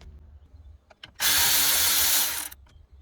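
A power driver with a T8 bit spinning out the small bottom bolt of a 2008 Volkswagen Jetta ignition lock assembly: one loud, steady whir of about a second and a half, bracketed by light clicks and handling.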